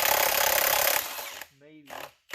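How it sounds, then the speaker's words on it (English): An impact wrench spins a bolt off during a ZF5 transmission swap on a Bullnose truck, a loud dense burst of about a second, followed by quieter sounds and voices. "we're going to use the impact so it'll spin it off without putting too much torque on this"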